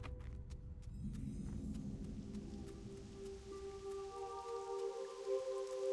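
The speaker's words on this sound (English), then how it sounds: "And it's raining!" Rain falls steadily in World of Warcraft Classic, a soft hiss running beneath low rumbling and a few sustained musical tones that rise toward the end.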